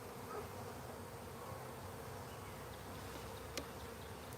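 Bees swarm at a hive right beside the listener, a steady, soft, close-up drone of many wings with one faint click partway through and no talking.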